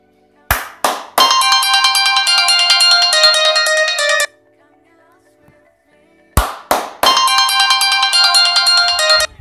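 Three sharp hand claps set off a phone finder app's bright melodic ringtone, which plays loudly for about three seconds; after a short quiet gap the three claps and the ringing repeat.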